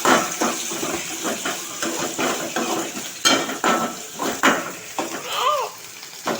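Ginger and green chilies sautéing in a pan, steady sizzling with repeated scraping and clinks of a spatula against the pan, close and fairly loud.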